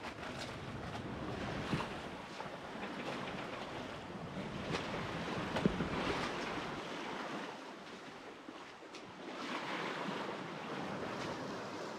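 Small, gentle ocean waves washing around a sailboat rocking at sea during calm weather on a passage from Florida to Guatemala, a steady soft wash with light wind noise and no talking.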